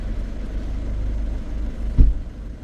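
A Mercedes-Benz E-Class E 200 CDI diesel engine, with an EGR valve fault, idles in a low, steady rumble. A single louder thump comes partway through, and the idle then settles back to an even drone.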